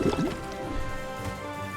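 A water thrust attack in the 16-bit style RPG Chained Echoes lands with a short, splashy liquid burst at the start. A soft, steady game backdrop continues underneath.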